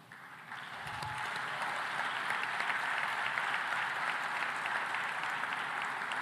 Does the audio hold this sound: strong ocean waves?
no